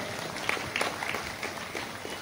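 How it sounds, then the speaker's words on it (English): A school jubilee audience claps steadily, a dense patter of many hands that holds at an even level from start to finish. "Welcome them with a huge round of applause."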